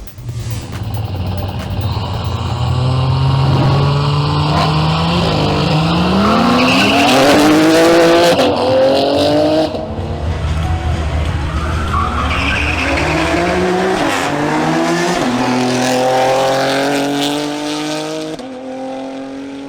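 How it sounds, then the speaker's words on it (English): Audi SQ5 and BMW X3 M Competition SUVs in a drag race, engines roaring loudly and continuously with rising revs and tire squeal, the sound swelling and fading as the two cars launch and run. "Now we have a duel between Ronald Chavez in his Audi SQ5 and Anthony Julio in his BMW"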